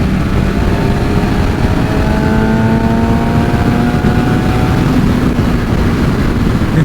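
A motorcycle accelerates hard through heavy traffic, its engine rising steadily in pitch under loud, constant wind roar that stays close throughout.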